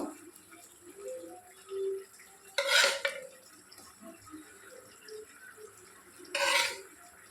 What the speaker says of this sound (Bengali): ঢাকাটা খুলে দেখে নিচ্ছি, দেখো সুন্দর ফুটছে তরকারিটা। এবার আমি মাছ দিয়ে দেবো তরকারিতে।